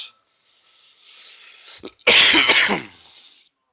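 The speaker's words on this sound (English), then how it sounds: "Sorry about that cough." A single harsh cough bursts out after a brief throat sound, loud and close, with no talking.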